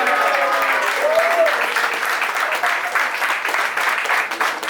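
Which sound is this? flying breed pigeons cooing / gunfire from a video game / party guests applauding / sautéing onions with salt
party guests applauding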